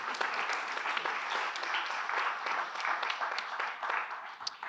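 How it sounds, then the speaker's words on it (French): Sustained applause from a conference audience honoring a speaker at a French tech and venture capital event, steady dense clapping throughout at moderate distance with no talk over it. "Je crois qu'on peut applaudir Emmanuel"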